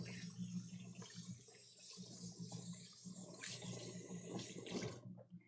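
Tap water runs steadily into a kitchen sink while hands are rinsed during gnudi prep, a continuous close splashing hiss that stops abruptly near the end.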